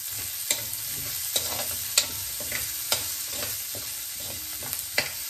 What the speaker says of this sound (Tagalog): palalagasin na po natin ang aroma ng sibuyas